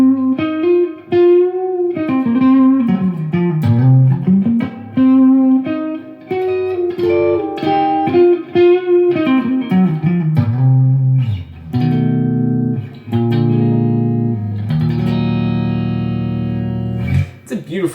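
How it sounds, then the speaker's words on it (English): Electric guitar with a simple layout of three-way selector, one volume and one tone control, played through heavy distortion: sustained chords and melodic lines ring loud and continuous, with thick saturated tone and pauses only briefly between phrases. "It's a beautiful sounding guitar, and that distortion."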